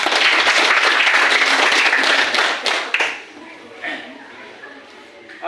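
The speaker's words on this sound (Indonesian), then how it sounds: "Baik, terima kasih, tepuk tangan dulu ya." Loud applause from a group fills the first three seconds, then fades quickly into a quieter room with light shuffling.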